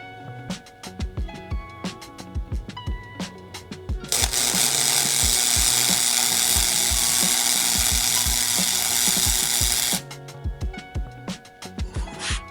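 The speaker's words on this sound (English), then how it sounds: "gonna tack weld it" Tack welding a bracket in a first-generation Toyota Tacoma straight axle swap: a loud, steady crackling weld burst of about six seconds, set between quick mechanical clicks and ratcheting before and after.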